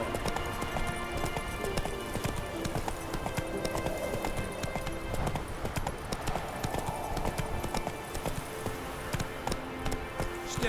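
Hooves of Geralt's horse Roach in The Witcher 3 clip-clop steadily at a trot over a dense battlefield bed of cavalry, marching infantry and smoke, with a faint whinny and no speech.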